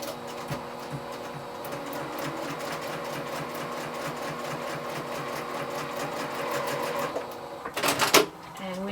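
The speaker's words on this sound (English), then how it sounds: "And then we'll start sewing." A sewing machine stitches fabric for a four patch quilt block with a fast, steady mechanical whir. The stitching continues for several seconds, then gives way to a few louder clacks and rattles near the end.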